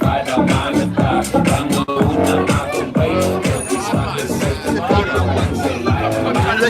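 Dense crowd noise at a street march in Cape Town, South Africa: steady babble of many voices and shuffling, loud and continuous throughout, with music-like tonal layers mixed into the din.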